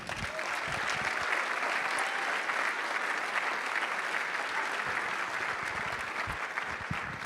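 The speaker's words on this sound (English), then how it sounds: "How about another round of applause for Mark?" A large convention audience applauds after a keynote at a national high school association convention in a hotel ballroom, with sustained, even clapping that fills the hall throughout and never drops off.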